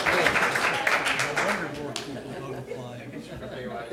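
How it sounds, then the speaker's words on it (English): A board meeting room breaks into a short round of applause, crowd clapping strongest at first then thinning out, with people talking over and after it. "can we respect Nucor with a round of applause?"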